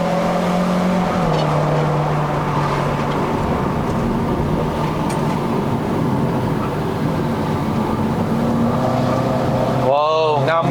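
A turbocharged Proton Inspira 2.0P with a CVT accelerates uphill on a Genting run in Malaysia, its engine a loud, steady drone heard from inside the cabin, with brief talk.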